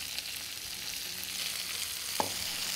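Chopped red onion cooking in bacon fat in a pan, a soft, steady background sizzle with one brief clink near the end, no talking.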